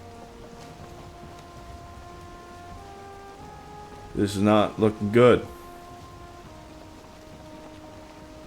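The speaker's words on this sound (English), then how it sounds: "That is a proper thunderstorm." Thunderstorm rain falls in the video game Valheim, a steady hiss running throughout while someone talks briefly over it.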